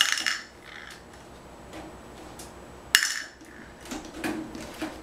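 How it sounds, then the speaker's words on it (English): Small metal clinks and light rattles from thumb screws being taken off a PC case, a few scattered taps with a sharper knock partway through, close and fairly quiet. "Remove the thumb screws."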